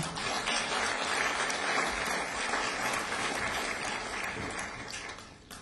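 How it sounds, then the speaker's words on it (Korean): An audience at a commemoration ceremony for the 10.4 inter-Korean summit anniversary applauds, a broad, even wash of many hands clapping that holds steady and fades slightly near the end. "여러분 다시 한번 큰 박수 부탁드립니다."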